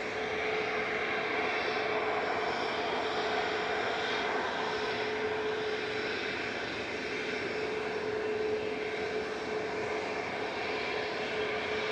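An Etihad airliner on short final approach to Manchester Airport roars steadily overhead, a loud, continuous broadband engine rush with a thin tonal whine that holds evenly for the whole stretch, no voices present.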